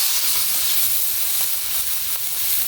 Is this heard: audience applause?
no